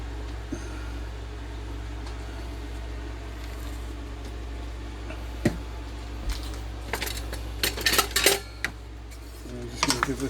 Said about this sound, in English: Give this a little bit of a stir.